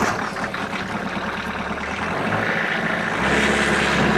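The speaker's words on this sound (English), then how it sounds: "Guys, I'm going to fire this tractor up." A 2022 Kubota LX3310HSD compact tractor's diesel engine rumbles steadily up close, a continuous low throbbing idle that swells slightly louder near the end, with no voices.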